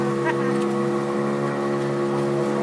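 Boat engine drones steadily during a coastal boat ride along Trenggalek beaches, a close, continuous motor hum with water and wind noise, alone throughout.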